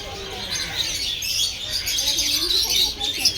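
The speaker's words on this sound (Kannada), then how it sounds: "ಒಳಗಡೆ ಎಲ್ಲ ಪಕ್ಷಿಗಳು ಹಾರಾಡ್ತಾ ಇದೆ ನೋಡಿ. ಕಾಕ್ಟೈಲ್ ಅಂತ ಹೆಸರು." Cockatiels in a caged aviary at Kankaria Zoo in Ahmedabad give a busy overlapping stream of high chirps and tweets at moderate distance.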